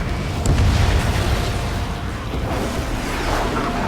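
Missile explosion in the Ace Combat 7 flight combat game, a loud booming burst with a rumbling tail that lingers and swells again near the end, heard alone.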